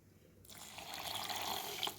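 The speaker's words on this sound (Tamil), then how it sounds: "தண்ணி சேர்த்துக்கலாம்" Water runs steadily into a pot of cooking rice and brinjal, a continuous splashing pour that starts abruptly and stays fairly loud for a couple of seconds.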